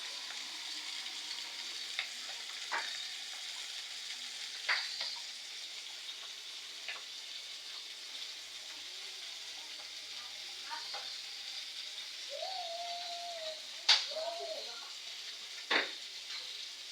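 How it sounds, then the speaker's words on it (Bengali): Fish fries in a pan on a home stove with a soft steady sizzle, broken by scattered clinks of utensils and brief voices nearby. "চুলায় মাছটা হচ্ছে।"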